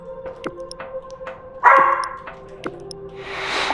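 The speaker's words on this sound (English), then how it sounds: "Bark, bark, bark. Yap, yap, yap." A dog barks in the video game Dread Delusion, giving a handful of separate yaps and one louder bark, followed by a short rush of noise at the end.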